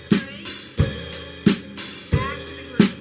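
Steady rock drum groove from a song's verse: bass and snare alternate in a bass, snare, bass, bass, snare pattern with crashes splashing on the accents, close and loud with no voices.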